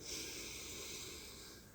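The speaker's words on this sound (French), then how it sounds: "Prenez une bonne inspiration par le nez." A single deep, steady inhale drawn through the nose during a relaxation exercise, airy and breathy, close and soft, lasting nearly two seconds with no talk over it.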